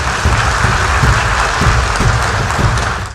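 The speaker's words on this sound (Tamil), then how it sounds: "பேச ஆரம்பிச்சதுமே ஒரு மிகப்பெரிய கைத்தட்டல் கரவொலி எழுப்பப்பட்டது" An audience breaks into loud, sustained applause as PM Modi begins his speech at a semiconductor conference in Delhi, many hands clapping densely and close, fading slightly at the very end.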